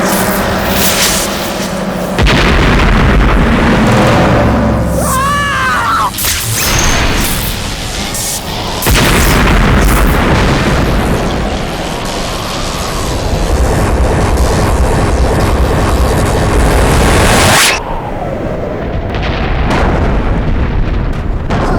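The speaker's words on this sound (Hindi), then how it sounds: "धमाका हुआ, धमाका।" Loud, sustained booming roar of a dramatized TV superhero-show explosion with rumbling debris and dramatic noise, continuing for many seconds before cutting to a quieter tail.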